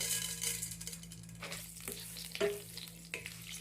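Cumin, mustard seeds and chana dal sizzle and crackle in hot oil as a tempering for an Andhra eggplant curry, with steady frying hiss and a few sharp pops and stirring scrapes, close and alone.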